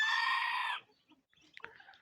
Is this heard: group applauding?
no